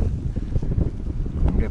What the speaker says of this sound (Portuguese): Epá, está o vento, não se consegue.